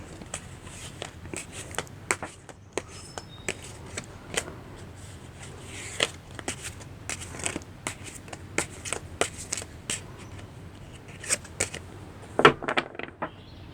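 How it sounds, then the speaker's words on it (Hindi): A deck of tarot cards is shuffled by hand, with a run of quiet, close, crisp riffling flicks and taps in an irregular rhythm and no talking. "तो सबसे पहले हम कार्ड शफल करेंगे।"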